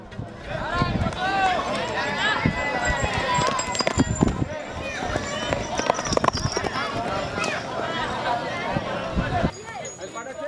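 Hooves drum on the ground during a horse race with child jockeys in Sumbawa, with rapid thudding mixed into a busy outdoor crowd where people talk and shout throughout.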